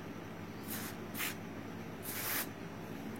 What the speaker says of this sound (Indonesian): kita semprotin di sini